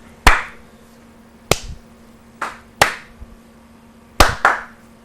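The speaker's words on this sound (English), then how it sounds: "It's like a careless clap." Single person clapping hands in a loose, careless way, six sharp isolated claps spaced unevenly over several seconds, close and fairly loud against a quiet room with a faint steady hum.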